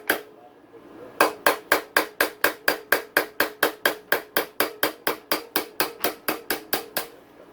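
A hammer strikes a dirt bike's steering stem nut in a rapid, even series of about twenty sharp metallic whacks, close and loud, with a short quiet lead-in and no talking.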